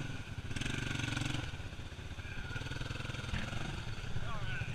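A Honda ATC250es Big Red three-wheeler engine revs and chugs while riding through clay, a mid-pitched, clattering engine note rising and falling at moderate distance, with people talking and shouting over it.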